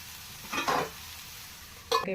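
Food fries in a pan for garelu pulusu with a soft, steady sizzle, broken by two brief stirring scrapes close by.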